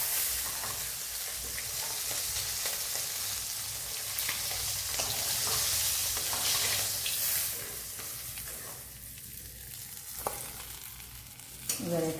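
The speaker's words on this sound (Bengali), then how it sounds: "তো আমি এটা মাথাটা ভেজে নিই, আলুটা ভেজে নিই" Fish head and potato pieces frying in a pan, a continuous close sizzle with stirring and scraping noises, swelling and fading as the food is moved, ending with a sharp clatter.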